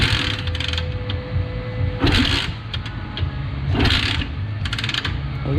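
A Honda Trail 70 motorcycle engine running after being started, a steady close low rumble with a faint mechanical whine, broken by brief bursts of higher noise.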